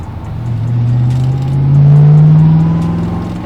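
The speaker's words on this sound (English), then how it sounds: "I love the sound of this car." A supercharged C2 Corvette Split Window show car drones loudly from inside the cabin while its engine note rises and swells through the revs, then eases slightly, with no one speaking.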